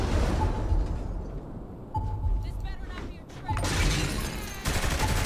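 Gunfire in the video game Saints Row 3, with bursts of rapid shots and booming hits that come in loud waves, broken by a brief quieter gap, while voices speak in the middle of the fight.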